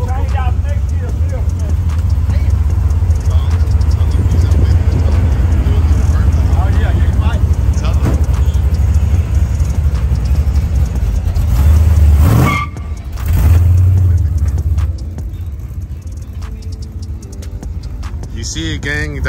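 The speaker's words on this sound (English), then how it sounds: "It'll do a burnout." An old car does a burnout, its engine roaring loudly and steadily while the tires squeal for a long stretch. The sound dips briefly and then surges again, and people talk over it.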